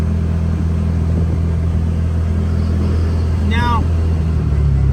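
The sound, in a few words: CFMOTO UFORCE 1000 UTV engine at cruising RPM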